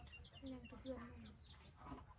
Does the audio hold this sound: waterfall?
no